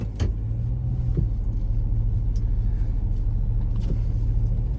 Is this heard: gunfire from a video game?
no